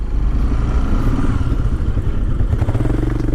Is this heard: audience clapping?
no